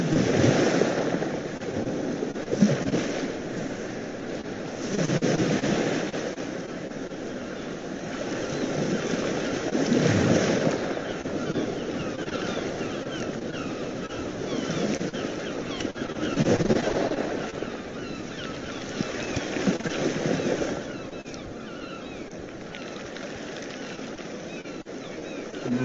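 Ocean waves at a seaside beach rolling in and washing out in slow, steady surges, with wind across the microphone and no voices.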